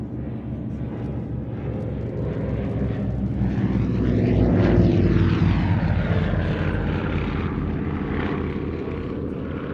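An Avro 19 propeller aircraft drones steadily at an air show, the engine roar swelling to a peak midway as it passes and then easing off, with no talking over it.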